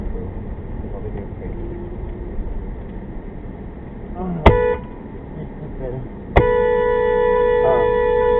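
A car horn blasts twice at a driver reversing on a road, a short toot followed by a longer sustained honk, loud and close over steady traffic and engine noise.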